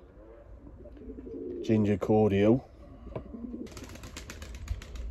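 Pigeons coo softly in a backyard garden, low and steady behind a nearby voice that speaks briefly, with faint rustling and a burst of hiss near the end.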